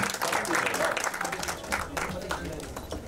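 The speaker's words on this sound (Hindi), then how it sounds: "आप सबकी जोरदार तालियां" Applause from the audience at a Bollywood song launch, clapping swelling and fading in uneven bursts, fairly quiet and somewhat distant.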